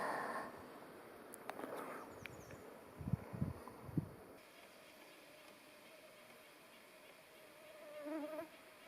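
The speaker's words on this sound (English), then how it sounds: "There's getting to be a drone in the air of the mosquitoes" A faint, steady mosquito whine hangs in the air of a quiet outdoor scene by a log cabin in early June, with a few soft knocks partway through.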